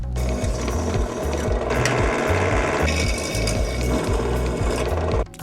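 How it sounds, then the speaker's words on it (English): A power drill boring through a piece of aluminum during a build of a spiritwalker's front arms, with a loud continuous whir and repetitive ratcheting mechanical chatter, ending abruptly. "With that piece of aluminum you just drilled out"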